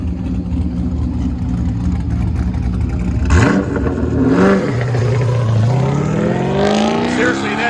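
A Corvette chassis wearing a Bronco body pulls away at a Goodguys autocross in Scottsdale, its engine idling loudly and then revving up in rising sweeps, with talk underneath.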